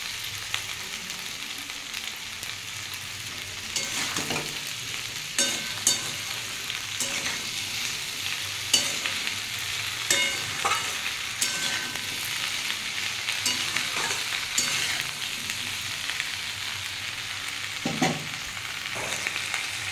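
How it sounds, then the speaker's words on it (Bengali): Okra fries in oil in a pan, a steady close sizzle running throughout while a utensil stirs and scrapes at irregular intervals, with occasional louder clatters. "ভেন্ডিগুলো দিয়ে দেবো। ভেন্ডিটা এমনিই নরম, বেশি ভাজতে লাগে না।"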